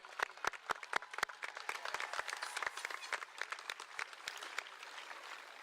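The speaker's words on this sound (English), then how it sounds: "We can clap." Graduation audience at Sussex Central High School clapping for the class of 2025, crisp individual claps from a scattered crowd heard fairly distinctly, steady through the clip with faint voices underneath.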